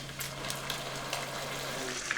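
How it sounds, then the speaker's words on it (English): Sauce hits cooked pork for asado de puerco and sizzles in the pan, a steady close crackle and hiss with scattered sharp pops and bubbling, no voices. "We're adding the sauce and this is gonna sizzle and smoke and bubble"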